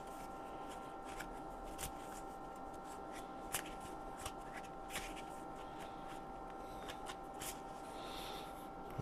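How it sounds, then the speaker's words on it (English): Tarot cards being shuffled by hand in a steady riffling run, soft and close with small crisp clicks scattered throughout. "giving it a bit of a shuffle. Shuffle, shuffle, shuffle"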